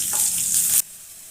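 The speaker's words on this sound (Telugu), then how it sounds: "2 ఎండుమిర్చి ముక్కలు, కొన్ని ఉల్లిపాయ ముక్కలు, కొంచెం కరివేపాకు వేసుకుని తాలింపు ఫ్రై చేసుకోవాలి." A tempering of dried red chilli pieces, onion pieces, curry leaves and garlic sizzles loudly in hot oil for a brief moment, then cuts off abruptly into near silence.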